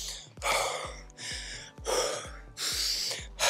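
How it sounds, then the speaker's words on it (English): Heavy breathing from someone out of breath after soccer fitness exercise, with repeated loud gasping inhales and exhales in an uneven rhythm, close up with no talking. "How I'm breathing right now? I'm out of breath."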